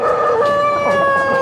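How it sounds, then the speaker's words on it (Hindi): Roosters on a large automated broiler breeder poultry farm crowing continuously and loudly nearby, with sustained overlapping calls and some clucking from the flock, no talk. "ये मुर्गे हैं ऊपर सारे"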